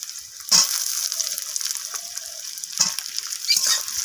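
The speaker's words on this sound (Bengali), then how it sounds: "তো আলুটাকে একটু ভেজে নেব পেঁয়াজের সাথে।" Cut potatoes fry with onion in oil, giving a continuous close sizzle broken by a few sharper scraping strokes as the pan is stirred.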